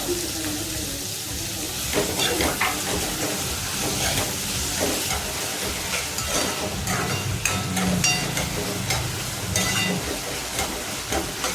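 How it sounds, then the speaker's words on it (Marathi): Finely chopped onions fry in a pan with a loud, rough sizzle, while a spoon stirs them in repeated scraping strokes that grow busier after the first couple of seconds. "कांदा मूसर आणि थोडा लालसर होईपर्यंत आपल्याला मिक्स करून घ्यायचे"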